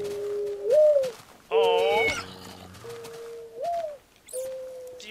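Minecraft birds in the game world, short whistled pitch-sliding calls and a brief warbling burst repeating several times at moderate volume, with no talk over them.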